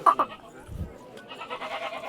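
A spotted goat bleats up close at a market in Mullanpur, then soft talk follows, and a second bleat trails off near the end.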